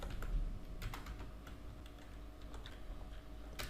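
Keys tapping on a computer keyboard while CSS code is typed, a quiet, irregular run of close clicks with small pauses between bursts.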